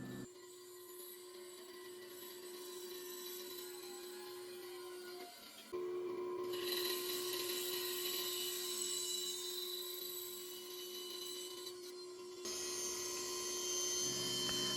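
A bandsaw cuts out a rosewood tote for a hand plane, a steady hum with a bright rasping whine as the blade bites the wood, pausing briefly and resuming twice at moderate volume.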